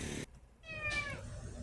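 A frightened, abused kitten gives one clear, high-pitched meow close up, rising then falling, in a brief moment without talking.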